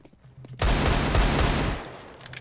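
Automatic gunfire in the Counter-Strike video game erupts as a loud, dense burst lasting about a second, then tapers off into quieter game noise.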